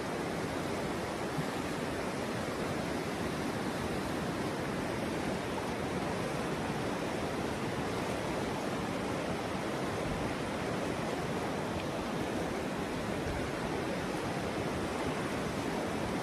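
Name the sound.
Abra River water flowing under foot bridge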